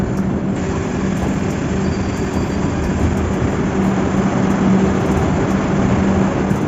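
The Shatabdi Express rolling into the terminal station at Kathgodam, a steady, dense low rumble of the train with a faint hum, continuous and fairly loud throughout, no voices.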